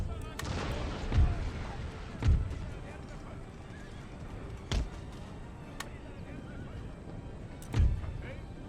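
Cannon artillery fires in an Empire: Total War battle with Prussian forces, a few deep booming blasts spaced several seconds apart over a steady battlefield din with horses neighing and hooves clopping, while a voice talks over it.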